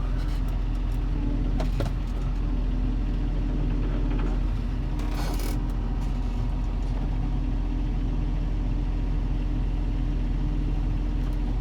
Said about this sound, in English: So now I'm in the tractor